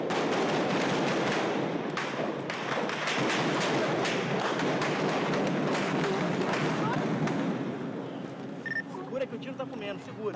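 Gunfire during an armed conflict comes as a dense, continuous barrage of distant pops and thuds, mixed with crowd noise and voices, fading slightly near the end.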